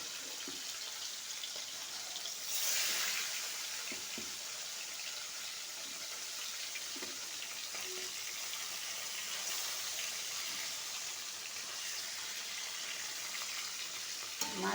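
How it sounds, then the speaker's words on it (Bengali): Fish pieces shallow frying in oil, a steady close sizzle running throughout, with faint stirring and clinking and a brief louder hiss of spattering near the start. "মাছগুলো এইভাবে একে একে সব ভেজে নেব"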